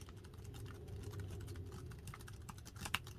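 Soft, quick taps on a Logitech wireless keyboard patter quietly and evenly, close by, over a low background hum.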